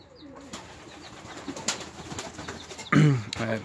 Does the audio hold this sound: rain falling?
no